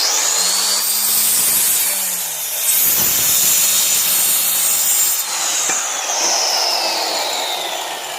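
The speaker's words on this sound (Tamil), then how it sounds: "எல்லா பக்கமும் கொஞ்சம் பெருசு வச்சுட்டு கட் பண்ண ஆரம்பிக்க வேண்டியது." A carpenter trims a mica laminate sheet for a door with a power tool, a loud steady high-pitched cutting whine with a brief break partway through, close up and with no talking.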